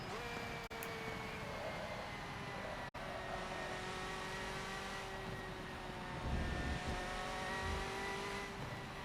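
A Porsche race car engine in a Le Mans racing video game drones steadily at high revs, with a sustained tone that shifts slightly in pitch, moderately loud and continuous throughout.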